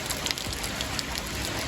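Heavy rain pouring down outdoors over a backyard pond construction site, a steady dense hiss of drops on surfaces with no voices.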